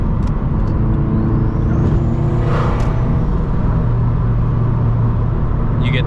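A turbocharged Subaru BRZ accelerates in sixth gear on the road, a loud, continuous engine drone and rumble from inside the cabin with a rising whine and a faint turbo whoosh.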